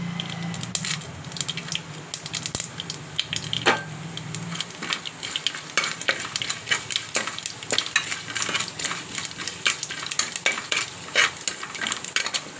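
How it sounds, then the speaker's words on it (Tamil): Mustard, cumin and fennel seeds splutter in hot oil in a pan for a Tamil banana-flower kootu, with steady crackling, sizzling and scattered sharp pops, plus a few utensil clinks and stirring sounds throughout. "சீரகம், சோம்பு எல்லாத்தையும் போட்டுக்கலாம். கடுகு பொரிஞ்சிடுச்சு."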